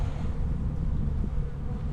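Honey bees hum inside an open hive, a low, continuous buzzing drone heard up close, steady throughout the short moment with no talk.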